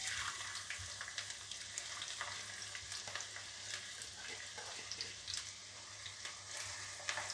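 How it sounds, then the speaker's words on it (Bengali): Chopped onions fry in hot oil spiced with whole garam masala for paneer dopyaza, giving a steady, dense crackling sizzle throughout with occasional stirring scrapes, close and continuous with no talking. "পেঁয়াজগুলো বেশ লাল করে ভেজে নেব"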